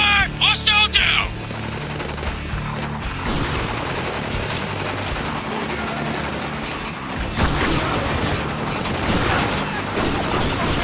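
Sustained gunfire in a shooter video game, a dense, continuous barrage of rapid shots and booms running throughout, with shouted voices near the start.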